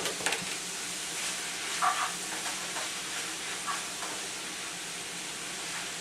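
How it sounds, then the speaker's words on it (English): Ground turkey meat and brown rice are stirred together in a hot pan, with faint, soft spoon scrapes over a steady low sizzle. "Make sure you stir it nice so that way all the turkey meat and the rice can combine together"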